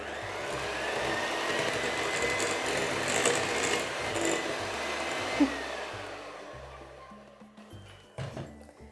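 An electric mixer whirs steadily through cake batter as eggs are added one at a time, a continuous buzzing drone that cuts off near the end, followed by a few knocks.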